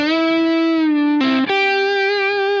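An electric guitar rings out through heavy distortion, a buzzing, sustained tone that shifts pitch partway through after a brief, rougher attack. It is loud and close, with no voices.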